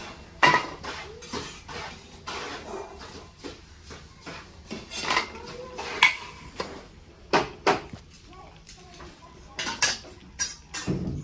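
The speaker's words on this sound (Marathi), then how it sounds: "तर आता मी ह्याला काढून घेते एका ताटामध्ये." Fried Marathi shankarpali are lifted out and dropped onto a metal plate, giving scattered light clinks and metallic taps at irregular intervals amid quiet kitchen clatter, with no talking.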